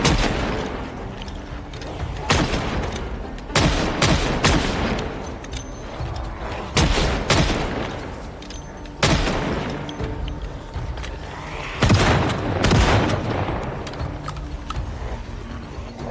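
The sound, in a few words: shotgun gunfire in Project Zomboid video game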